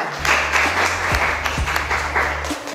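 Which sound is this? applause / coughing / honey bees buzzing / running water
applause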